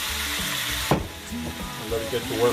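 Ginger and dried seasonings sizzle in hot oil for a Jamaican-style brown stew pork while being stirred. A steady close frying hiss carries a few stirring knocks, and a voice speaks over it.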